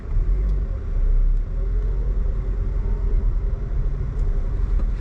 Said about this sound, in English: Let's put the car in drive.